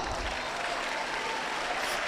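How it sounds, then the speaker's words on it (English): Group of listeners clapping after a teacher's prompt during a CPR class, a steady dense wash of applause held evenly for about two seconds, moderately loud and continuous. "Clap for yourself."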